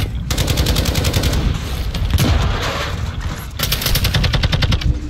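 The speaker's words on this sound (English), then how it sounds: "there's a guy in the hill shooting at us" Rapid bursts of automatic gunfire from a hillside shooter in a video game, loud and nearly continuous across the whole stretch with only brief dips between volleys.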